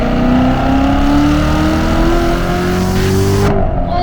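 A 2017 Corvette Z06 with a manual gearbox accelerating hard, its engine roaring loud and close as the pitch climbs steadily, then cutting off abruptly near the end.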